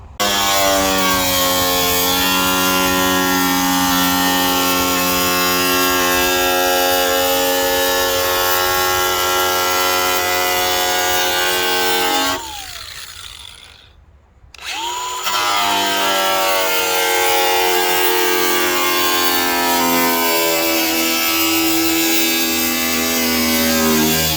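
A power tool cuts through the hood of a 2000 Honda Civic with a loud, steady, high whine that drops away briefly around the middle, then resumes at full strength until the end.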